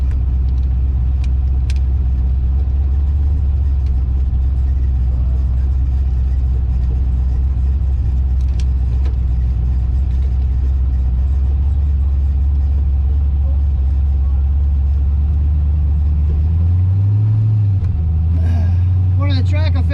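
A twin-turbo 5.3 Ford Ranger holds a loud, steady low engine rumble at a track day, with the revs surging briefly near the end, a continuous heavy drone.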